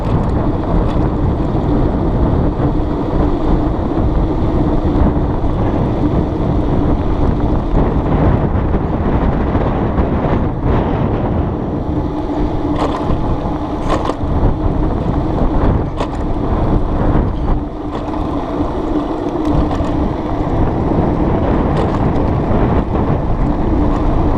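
Heavy, constant wind buffeting the microphone while riding an Emmo Urban S electric scooter up a gradual incline into a strong headwind, a loud roar that fills the whole stretch without letup and with no speech.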